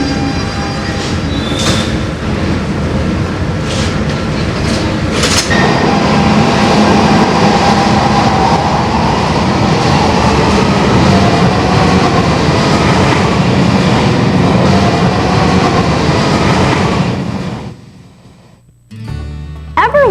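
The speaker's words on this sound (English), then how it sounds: "Subway trains run under the ground." A Lisbon subway train rumbles loudly through an underground tunnel with a dense, roaring rush, then drops off sharply near the end into quieter sound.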